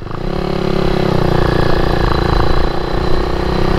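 A 400cc two-stroke motorcycle engine runs on diesel fuel, loud and close, with a rough, steady buzzing drone and a slight surge near the end.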